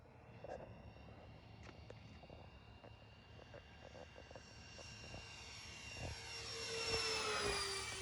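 A Freewing PJ50 model jet whines past low overhead, its pitch sweeping down as it swells louder then recedes, with faint clicks in the background.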